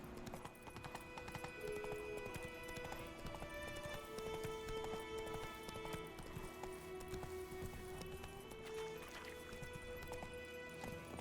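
Hooves clip-clop steadily as Roach, the horse in The Witcher 3, trots along, a continuous rhythmic gait heard under layered sustained game music at moderate loudness.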